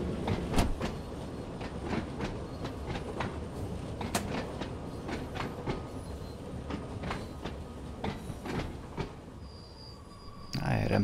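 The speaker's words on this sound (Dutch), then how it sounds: "Dit is wel een oude trein, dus we moeten er rekening mee houden dat hij niet zo snel kan gaan." An old metro train on a heritage line in Train Sim World 2, Isle of Wight, running steadily with rhythmic clickety-clack of wheels over rail joints and rumbling under the cars, ending with a brief squeal.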